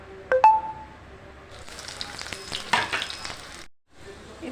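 Refined oil frying in a pan gives a close crackling sizzle, preceded by a few light clinks and cut off briefly near the end, with no voices.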